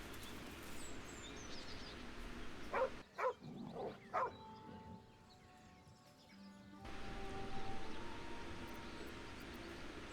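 A dog in Baldur's Gate 3 gives several sharp barks in a quick cluster, standing out clearly over a steady ambient game soundscape with faint bird-like chirps.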